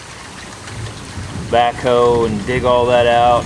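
Heavy rain falling steadily as a constant hiss in the background while someone talks over it close by.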